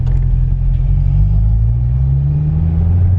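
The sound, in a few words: Corvette C6 engine rev-match blip during engine braking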